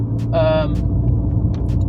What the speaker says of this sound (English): this sounds much more like a DSG car with these shifts